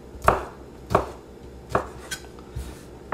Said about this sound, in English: I'm just cutting it into little cubes here, using a nice lever 1 motion